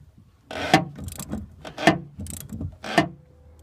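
Three loud ratcheting bursts about a second apart as a hand ratchet backs off the 18mm nut on a strut mount during a BC Racing coilover install on a Ford Taurus SHO, with lighter clicking between them.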